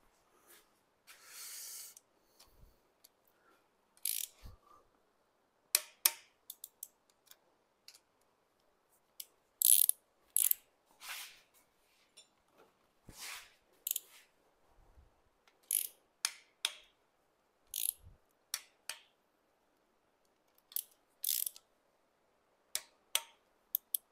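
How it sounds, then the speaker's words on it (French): A ratchet tightens engine block bolts on a Mitsubishi Colt Ralliart in a quiet workshop, giving short bursts of rapid clicking separated by pauses, fairly close and clear against near silence. "Ensuite, on dessert tout et on resserre à 20 newtons."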